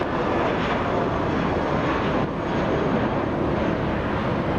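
An airliner flies at Los Angeles International Airport, producing a loud, steady broadband jet roar that fills the whole stretch with no break and no talk.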